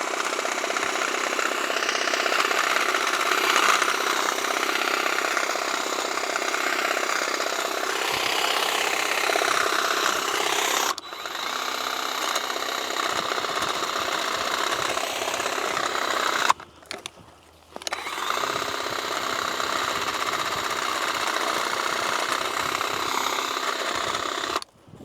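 A WORKPROX 20V cordless hedge trimmer cuts pine tree branches by a driveway, its loud, buzzing motor running steadily and close, with a short pause before restarting and running on.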